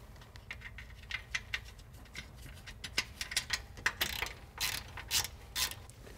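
Ratchet tightening the OE bolt on a supplied Wilwood brake bracket on a Jeep Wrangler front disc brake, a quick series of close clicking pawl strokes in bursts, fairly quiet, with no talk.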